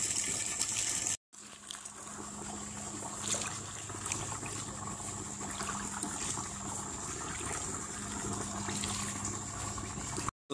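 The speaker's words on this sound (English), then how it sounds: "as this water's coming in here and filling up this intake bay and the body of my pond" Water flowing into the intake bay of a garden pond, a steady close gushing and splashing rush that holds even across the clip, with a brief cut near the start and no talk.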